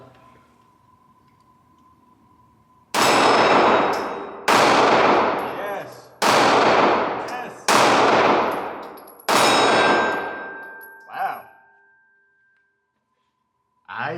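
A Taurus G3C 9mm handgun fires five loud, sharp shots at an outdoor range, spaced about a second and a half apart, each ringing out with a decaying echo, followed by a faint metallic clink.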